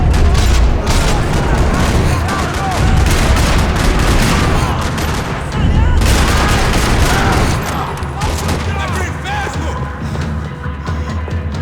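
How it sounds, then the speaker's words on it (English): Dense gunfire rattles through a parking lot in Max Payne 3, loud rapid bursts with booms and crashes layered continuously, surging in waves over the whole stretch. "Another parking lot rattling with gunfire."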